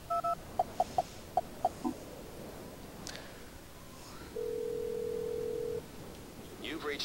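A telephone in Silent Hill: Shattered Memories dials a number: a quick run of five short, evenly spaced keypad tones, then a steady tone after a pause, clear and close over faint background hiss.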